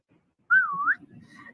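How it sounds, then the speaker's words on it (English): A person whistles once, close and clear, in a single sliding note that dips and then rises, with faint room noise after it. "You know how to whistle"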